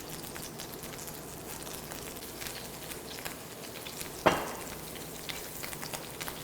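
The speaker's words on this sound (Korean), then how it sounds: "기름에다 그대로 한번 구워보겠습니다." Matsutake mushrooms frying in oil and butter in a pan: a soft, steady sizzle and crackle, fairly quiet, with one sharper pop partway through.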